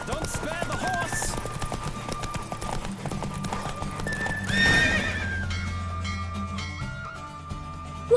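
Hooves clip-clop rapidly in a galloping rhythm amid game music and effects in The Witcher 3: Wild Hunt, with a horse neighing loudly partway through.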